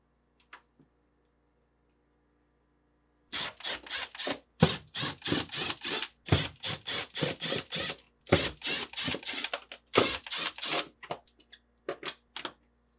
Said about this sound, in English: using a 1/4 inch nut driver, remove these 5 screws